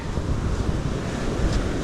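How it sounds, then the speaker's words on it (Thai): Strong wind buffeting the microphone with sea waves rolling behind at a seaside fishing camp, a steady loud rushing roar with no voices. "ทะเลข้างหลังลมค่อนข้างแรง"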